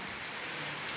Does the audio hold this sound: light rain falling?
yes